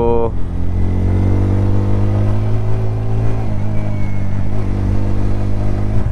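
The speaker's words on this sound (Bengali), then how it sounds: "এইবার আস্তে আস্তে বাইকের আওয়াজের মজা নেব।" A motorbike ridden on a mountain road from Kalaktang toward Dirang in Arunachal Pradesh hums loudly and steadily at close range, its engine note shifting slightly in pitch as it climbs and eases, with a voice briefly over it.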